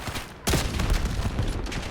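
Enemy gunfire in the video game Call of Duty Black Ops 7 erupts suddenly into a loud, dense burst of rapid overlapping shots that keeps rattling on without a pause.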